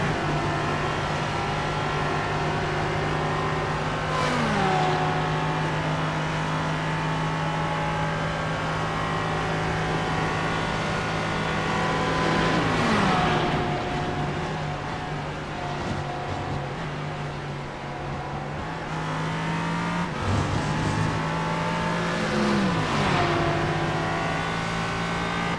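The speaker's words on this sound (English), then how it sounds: "Battle between the Porsche and the Mercedes." Porsche and Mercedes endurance racing cars roar past in repeated loud engine sweeps, revving and shifting, with steady engine drone between passes.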